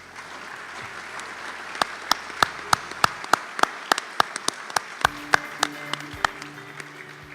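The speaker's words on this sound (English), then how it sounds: "You can clap now." Audience applause at a design and leadership awards gala, a steady crowd clapping with sharp individual claps ringing out rhythmically over the hall, continuing throughout at moderate loudness.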